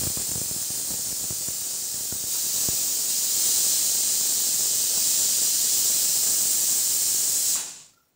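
Steady loud hiss of steam venting from a pressure cooker on a gas stove while peas cook inside, with a few soft knocks early on, rising slightly then cutting off abruptly near the end.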